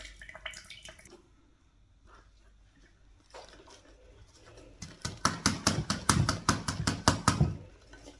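Water splashes and drips as it is emptied from a hydroculture plant pot, scattered trickles at first, then a loud run of rapid pouring splashes near the end.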